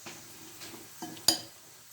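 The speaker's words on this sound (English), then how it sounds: "now as I'm stirring" Utensil scraping and stirring food in a pan while cooking, a few soft irregular strokes over a low sizzle, ending in one sharper metallic clink.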